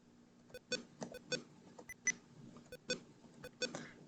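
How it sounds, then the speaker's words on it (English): Repeated short computer keyboard warning beeps at irregular intervals, fairly quiet, over faint clicking and a low background hum. "Sorry about the beeping."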